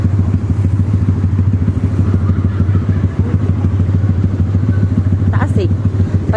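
Motorcycles idle and push through knee-deep flood water on a street in Bocaue, a steady close engine drone with sloshing clatter, while people talk over it.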